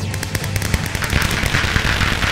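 Flame explosion in a blocky video game, a dense crackling burst of repeated blast-like pops that stays loud and steady throughout, with no voices over it.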